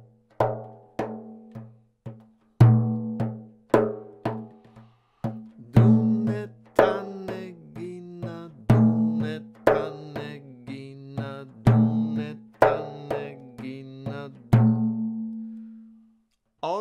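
Plucked and muted guitar strokes form a repeating rhythmic pattern, with percussive ghosted hits between clearer notes, played solo and up close.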